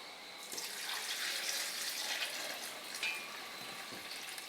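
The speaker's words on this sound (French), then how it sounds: "Ensuite, nous allons ajouter de l'eau." Water poured onto grated coconut in a container while making coconut milk, a steady soft splashing trickle that runs without pause and sounds close up, with no voices over it.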